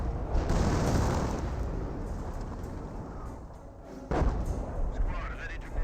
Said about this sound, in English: Auto cannons getting some good damage on these forces.